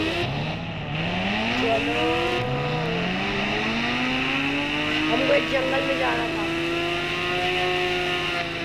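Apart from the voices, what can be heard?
Ghost Rider bike engine in a video game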